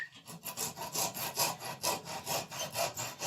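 Wood held in a vise being cut with a hand saw: steady rhythmic back-and-forth rasping strokes, about three per second, close and moderately loud with no talking.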